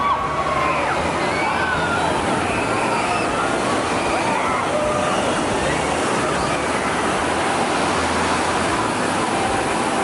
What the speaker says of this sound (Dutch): En ze creëren echt enorme golven. Zo hoog dat je erop kunt surfen, daar komen ze.